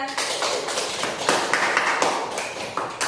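Students in a classroom clap for a presenting group, a brief burst of scattered hand claps with chattering voices underneath, moderately close.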